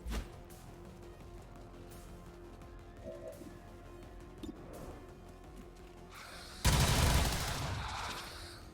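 Gunfire in the Highlander mod of a tactical video game: faint scattered shots and clatter at first, then a loud burst of firing and impact noise near the end that slowly decays.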